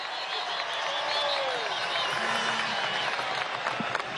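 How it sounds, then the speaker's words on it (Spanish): A crowd at a PSUV political rally in Nueva Esparta, Venezuela, applauds and cheers in a steady, moderately distant wash, with voices mixed into the noise. "Fuerte ese aplauso, mis compatriotas, para Marlene, una mujer como todas ustedes,"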